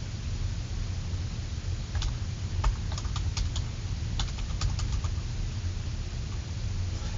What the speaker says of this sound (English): Type in your username that you set up originally